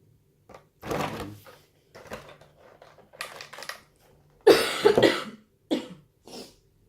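A series of coughs, a few quiet and a couple loud and harsh, spread in irregular bursts with short pauses between.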